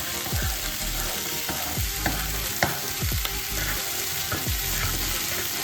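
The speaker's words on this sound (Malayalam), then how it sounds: "ഒന്ന് സോട്ട് ചെയ്തെടുത്താൽ മതി." Vegetables for chilli chicken sauté in a hot pan, a steady close sizzle broken by repeated scraping stirs of the spatula, heard alone with no talk.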